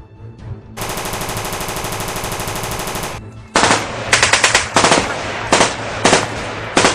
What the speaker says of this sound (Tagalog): Anong putok yun?